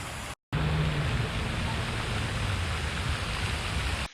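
Park fountains send out a steady, broad rush of streaming and splashing water, loud and constant, broken by a brief dropout near the start.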